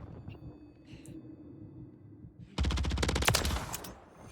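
Rapid automatic gunfire in the shooter game Call of Duty MW3 bursts in loudly after a stretch of quieter game ambience, a dense rattling volley lasting about two seconds before easing off.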